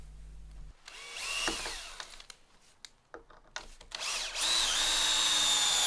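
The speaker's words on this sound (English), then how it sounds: "get some screws driven in from either side to lock them" A power drill drives screws into clamped wooden workshop floor sections in short whirring bursts broken by gaps, then runs longer near the end, close by with no talk.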